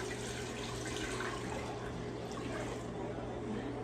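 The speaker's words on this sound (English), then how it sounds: "So I put about 2 quarts of water in the pitcher, and then I'll usually just pour it in." Water pours steadily into a pitcher in a kitchen, a continuous close rushing flow with a low hum underneath and no speech.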